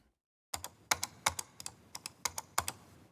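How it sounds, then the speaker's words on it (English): Crisp, close clicking of a computer mouse in an irregular series, about a dozen light plastic clicks after a brief silence. "Probably know what that sound is. That's a mouse click."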